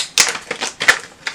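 A gold pair of scissors being pulled from its packaging, with a handful of crisp, crinkly rustles and clicks that come in short bursts, close and alone, without any speech.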